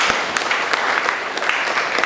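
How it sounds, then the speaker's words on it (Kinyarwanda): A church congregation claps in praise to God during a Kirundi-language sermon, a steady burst of dense applause filling the short moment. "Akomera Imana amashyi."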